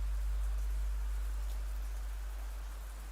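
Steady rain falls in the game Fallstreak, a soft continuous wash of patter with a low rumbling undertone, even and unbroken throughout with no voices.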